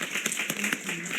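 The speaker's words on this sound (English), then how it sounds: "please, we need an applause, man. We need an applause." An audience at a gaming accessibility panel event claps in a short burst of scattered applause from nearby, brief and moderately loud.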